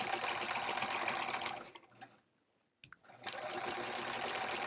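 Sewing machine stitching quilt blocks for a sampler quilt, a steady whirring run that stops briefly midway with a short pause before running again, close and alone with no talk.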